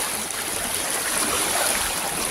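Steady rushing floodwater from a typhoon in Kawit, Cavite, a continuous broadband churn that holds evenly throughout with no voices, like a strong current flowing close by.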